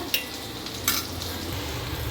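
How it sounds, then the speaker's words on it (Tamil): Chicken frying in a pan, a constant hiss of sizzling oil with a couple of sharp scraping stirs of a utensil. "இது கொஞ்சம் அப்படியே லைட்டாக பொரிச்சிட்டு இருக்கட்டும்."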